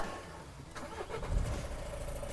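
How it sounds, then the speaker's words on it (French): A vehicle engine cranks and starts during a heavy-vehicle licence check, a brief rising rumble settling into a steady running tone, close by with no voices. "Donc là, je démarre mon véhicule."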